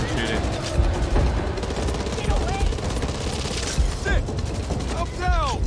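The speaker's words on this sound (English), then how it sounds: "I'm spinning in circles and shooting." Gunfire in the zombie shooter Back 4 Blood as a player spins and fires, dense continuous shots and bursts over chaotic game noise, with voices talking throughout.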